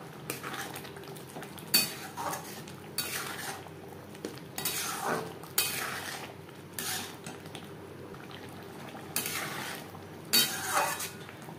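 Chicken ghugni stirred in a pan with a spatula, giving irregular scraping and clinking strokes against the metal alongside a faint low sizzle, moderately close with no talking.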